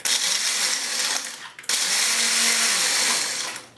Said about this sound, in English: Just so now I'm going to blend this up again.